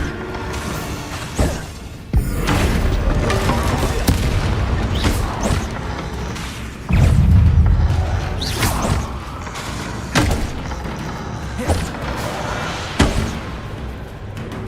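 Repeated Bombarda explosion spells from Hogwarts Legacy, loud booming blasts and heavy thuds going off one after another with scattered crashes and rumbling debris between them.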